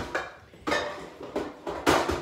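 A metal pan is set back into a cupboard under a kitchen counter, giving a few separate clanks and knocks in an irregular rhythm, close and fairly loud.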